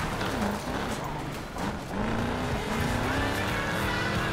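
Camaro SS engine roaring under nitro boost while racing in Need for Speed Payback, a loud continuous revving drone with rising pitch sweeps and a brief dip midway, close and steady throughout.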